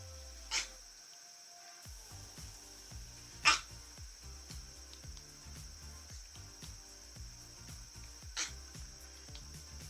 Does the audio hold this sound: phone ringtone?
no